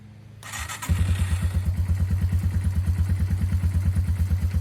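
A Yamaha TW 200 motorcycle on a chilly morning, not run yet that day, cranks briefly and then catches, settling into a loud, steady thumping idle with a fast regular pulse close by.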